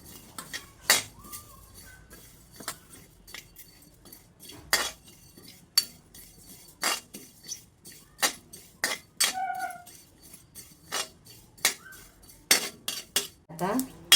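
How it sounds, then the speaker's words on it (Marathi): Coriander, cumin and fennel seeds dry roasting in a pan over low heat, giving a run of sharp, close metallic clinks and scrapes from a utensil against the pan, irregular and spaced, with brief quiet gaps between strokes. "धने, जिरे, बडीशेप हे मंद आचेवर भाजूया."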